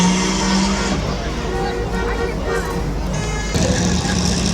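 Minivans racing figure eights at a midvale speedway, engines droning steadily and fairly loud throughout, with crowd or announcer chatter mixed underneath.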